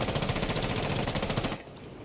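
Sustained automatic gunfire from a recoil-tuned attacker weapon with a flash hider in Rainbow Six Siege, a rapid steady stream of loud close shots that cuts off abruptly near the end.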